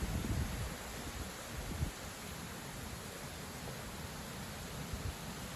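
Strong autumn wind gusting around 80 km/h outdoors at a house, a steady airy rush with low buffeting rumbles that swell briefly near the start, moderately faint and without voices.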